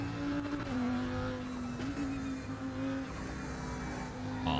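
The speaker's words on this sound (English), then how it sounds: "And this sounds like turbo to me." Race car engine in the RaceRoom sim racing game with a steady turbo-like whine over the engine drone, holding a constant loud tone for several seconds and shifting pitch slightly, with no talking.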